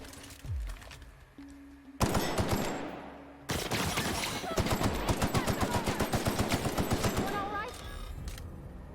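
Rapid automatic gunfire from a weapon in the video game The Outer Worlds rattles in a fast, even stream of loud shots, preceded by a few heavier single blasts and robotic tones, with fighting noise around it.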